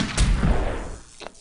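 Blaster-style gunfire in the Star Wars Galaxies Legends game during a space station mission: a heavy booming shot opens, followed by rumbling thuds and a second sharper, fainter shot near the end.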